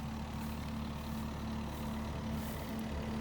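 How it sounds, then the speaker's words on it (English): A Takeuchi TL8 compact track loader fitted with a high-flow Rut Manufacturing disc mulcher head idles steadily at a brush pile, a low continuous engine drone with a faint hum, no breaks. "the cutter's still just about idling"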